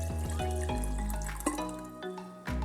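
Water is poured into a blender jar, a ringing gurgle whose tone climbs as the container fills, with a short splash and a brief pause before pouring resumes near the end.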